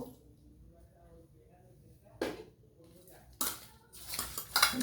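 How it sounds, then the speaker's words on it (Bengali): Katla fish pieces are worked with lemon juice in a bowl, giving faint wet squelching and a few sharper clinks of the bowl and utensils against it, under quiet talk. "এই লেবুর রসটা খুব সুন্দর করে এতে মাখিয়ে নেব।"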